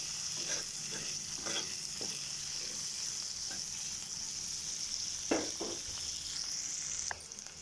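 Chopped onion and green chillies frying in a hot tempering for potato curry, a steady close sizzle broken by scraping stirs of a spoon in the pan, with a brief sharper clatter near the end.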